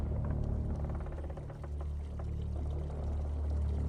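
Water runs down a channel into a tank in Al-Jazari's medieval lever-and-crank water-raising machine. It makes a continuous pouring rush with a low rumbling undertone and steady level throughout, with no voices.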